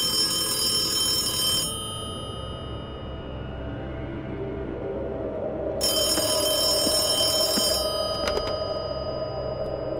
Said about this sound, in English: And then, the phone rings.